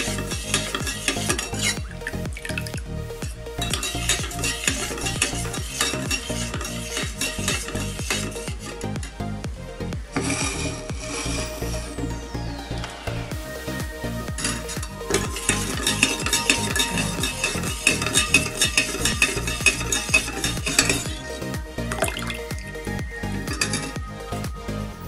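A spoon stirs lemonade to dissolve sugar and salt, scraping and clinking against the vessel close up in a busy, continuous swirl with brief pauses and no talking.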